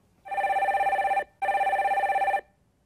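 A telephone rings on a radio call-in show as a caller's line is connected, two clear bursts of trilling electronic ringing separated by a short pause, loud and close with no talk over it.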